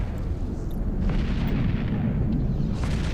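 A ship blowing up in the space game EVE Echoes, a loud, sustained low rumbling boom that rolls on without a break, with a faint crackling burst partway through.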